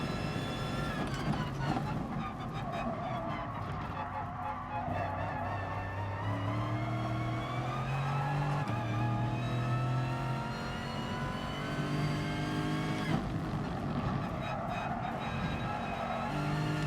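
Race car engines in GT Sport, a Porsche among them, drone and whine continuously through the whole stretch, pitch climbing and falling through gear changes as the cars battle closely.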